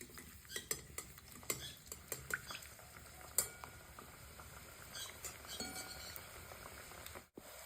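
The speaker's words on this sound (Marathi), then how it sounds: "तेल गरम झाले, आता आपण कापण्या तळून घेणार आहे." Wheat flour kapanya snacks fry in hot oil with a faint, steady sizzle, broken by repeated clinks and scrapes of a metal utensil against the pan.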